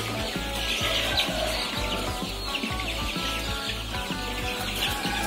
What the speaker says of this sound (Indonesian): Nih ayam-ayamnya